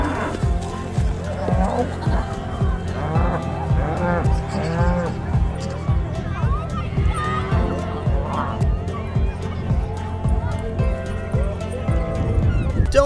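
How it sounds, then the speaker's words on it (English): A herd of cows moos repeatedly and runs about excitedly, loud overlapping lowing calls over thudding hooves and movement, with a person talking over the animals. "These cows were granted their freedom, and they couldn't help but moo in excitement."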